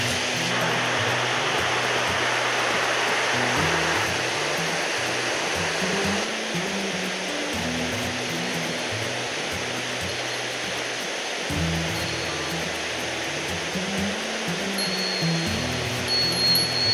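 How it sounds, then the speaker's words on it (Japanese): A large waterfall in the Itajiki mountain gorge roars with a constant, loud broadband rush that fills the whole stretch, with a low hum fluctuating underneath. "滝で大滝っていうだけあってすごいね。"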